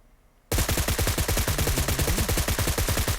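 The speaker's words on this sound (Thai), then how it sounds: "เดี๋ยวผมจะลอง M762 นะครับเป็น เลดดอทนะครับ ยืนยิงนะครับ" M762 assault rifle with a red dot sight fired in PUBG Mobile: after a brief quiet moment, a loud, sustained burst of rapid automatic shots rattles on steadily at close range, with no talking.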